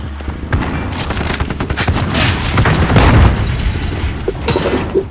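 A bomb strike in the Call of Duty: Modern Warfare video game, booming explosions rolling over dense, continuous gunfire and crackling bursts, loud and chaotic for the whole stretch with no clear talk.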